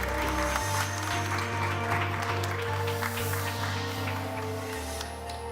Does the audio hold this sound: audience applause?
yes